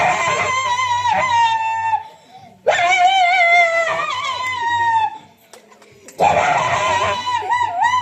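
Children at a school annual day celebration imitate a dog and puppy, voices giving repeated yelping, whimpering barks in three loud bursts separated by short pauses.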